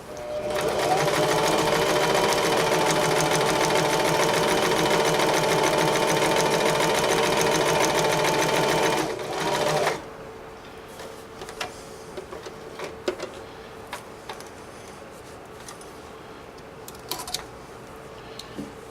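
A sewing machine hems a curtain in one long, steady, fast-stitching run of close mechanical whirring that stops abruptly, followed by quieter handling noises and small clicks.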